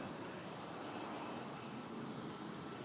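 A Swoop airliner at Toronto Pearson airport gives a steady, distant broadband engine roar, an even wash of jet noise heard alone with no voices.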